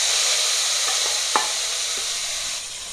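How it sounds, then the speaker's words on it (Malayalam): Sprouted beans tossed into hot oil with mustard seeds, dried red chilies and curry leaves give a steady loud sizzle, with a few soft stirring knocks and one sharp clink partway through. "നമ്മൾ കടുകിടുവാണേ. വറ്റൽമുളക്, കറിവേപ്പില, അതിലേക്ക് നമ്മുടെ പയർ മുളപ്പിച്ചതും കൂടെ ഇട്ട് കൊടുക്കാം."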